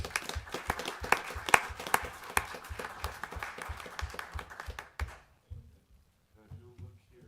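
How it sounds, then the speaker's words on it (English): A council meeting audience applauds steadily for about five seconds before the clapping stops, followed by faint talk in a quiet room. "we'll give him a hand of applause"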